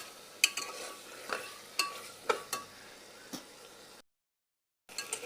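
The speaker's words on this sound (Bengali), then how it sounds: "এক মিনিট গোশতটা ভালোভাবে কষানো হয়ে গেছে" Goat meat being stirred and seared in a pan while cooking with jackfruit seeds, a soft background sizzle broken by several sharp spoon scrapes and clinks, then a brief silence before stirring resumes.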